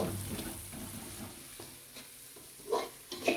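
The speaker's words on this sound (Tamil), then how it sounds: "இந்த மாதிரி வெங்காயம் நல்லா உங்களுக்கு நல்லா ஃப்ரையாக ஃப்ரையாக" Onions frying in a pan give a soft, steady sizzle, with light stirring scrapes and a couple of louder clinks toward the end, close and fairly quiet.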